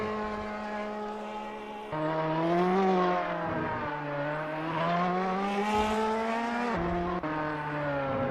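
Ferrari GT2 race car in a racing video game, its engine note rising and falling steadily through gear changes, loud and continuous with no talk over it.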